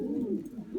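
Racing pigeons coo in their loft, a single low, throaty rolling coo heard close by with no talking over it.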